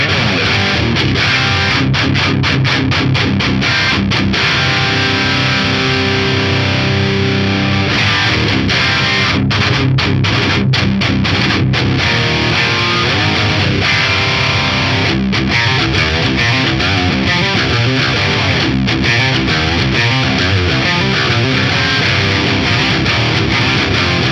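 Heavily distorted electric guitar through an Axe-Fx III with a tight high-gain Mark series tone plays palm-muted chugs and riffs, loud and sustained throughout with sharp rhythmic stops.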